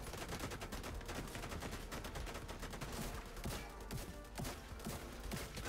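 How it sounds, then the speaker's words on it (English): Rapid, dense shotgun fire in the video game The Division 2, loud and continuous with overlapping blasts and no pauses. "every, like, five of those shotgun shots did not shoot that machine at all"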